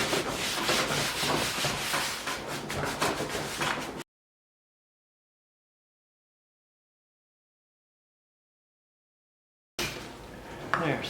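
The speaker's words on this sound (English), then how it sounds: "Okay, let's buff that out." Cloth buffs wax off Monos hard-shell luggage in a kitchen, a close, loud rhythmic rubbing and scrubbing that stops abruptly into silence, then resumes briefly.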